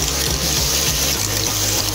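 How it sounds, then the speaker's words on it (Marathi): Water poured into a pan of clams cooking Konkani-style, a steady close splashing and gurgling flow with a low rumbling burble throughout. "हे बघा, हे पाणी मी आता ह्याच्यात टाकत आहे"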